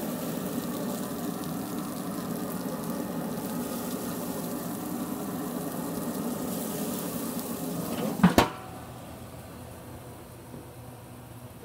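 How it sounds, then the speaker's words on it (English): Redfish sizzling on an outdoor grill, a steady broadband frying hiss that runs close and continuous, with a brief sharp clatter near the end before the sizzle drops quieter. "Got some sizzle."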